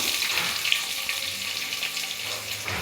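Small onions frying for murungai keerai sambar, a continuous bright hiss of oil sizzling up close, steady and fairly loud with faint crackles.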